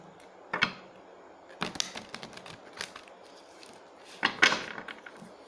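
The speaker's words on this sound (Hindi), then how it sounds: "अब देख लेते हैं नेक्स्ट, शफल कर लेते हैं।" A deck of tarot cards being shuffled at close range, heard as several brief papery bursts and soft taps separated by quiet pauses, with no talking.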